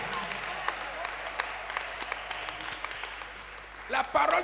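Church congregation applauding during a French-language sermon, a steady crowd clatter under a preacher's voice, with a louder swell of clapping near the end.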